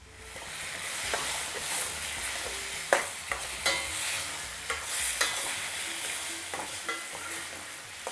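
Chicken balti base gravy frying steadily in a pan, a continuous loud sizzle broken by several sharp spikes of stirring and spitting oil, with no voices.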